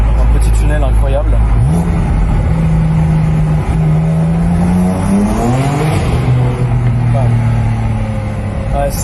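A BMW M3 engine revs inside a small tunnel in Belgium. The rising, harmonic engine note swells and holds loud and close, echoing off the walls, and voices talk over it.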